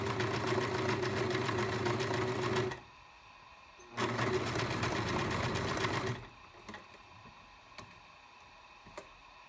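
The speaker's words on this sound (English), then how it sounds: "And now I will show how this machine zigzags." A Singer 5137 sewing machine stitches a zigzag in two loud steady bursts of rapid mechanical whirring, split by a short pause and then trailing off into a few quiet clicks.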